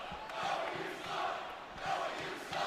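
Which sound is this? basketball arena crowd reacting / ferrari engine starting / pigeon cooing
basketball arena crowd reacting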